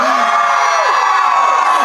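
An audience of children at a celebration event screams and cheers loudly and continuously, a dense sustained crowd roar with shrill whoops rising through it.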